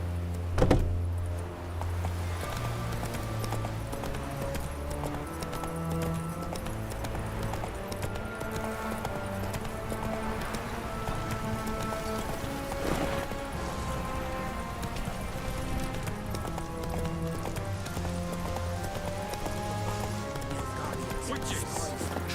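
Horse hooves clip-clopping at a steady run in The Witcher 3: Wild Hunt Next-Gen, moderately close and continuous beneath a dense layer of game music, with a brief spoken voice near the start.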